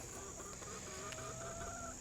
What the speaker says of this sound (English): My 2 flocks, my little hens, and my big girls